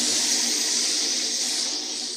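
Water gushes powerfully from a tap in a steady, loud, unbroken hiss that holds evenly from start to finish, with no talking.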